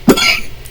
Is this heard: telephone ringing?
no